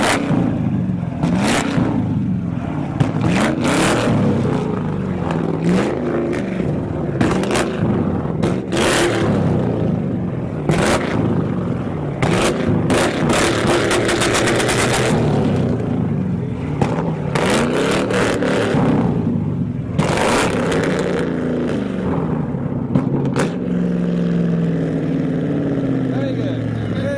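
A Toyota 2JZ engine at a car show revs repeatedly, its rising and falling engine tone running continuously under crowd noise and people talking nearby.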